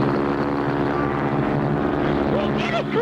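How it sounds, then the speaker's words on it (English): A cartoon propeller airplane engine runs at full throttle during a low chase over trees, a steady loud droning roar filling the whole stretch with a faint voice near the end. "There's another plane right on top of us."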